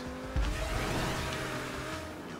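A car in the GTA V Online video game drives with a steady engine and road roar that swells briefly near the start and holds loud and continuous throughout, with no talk.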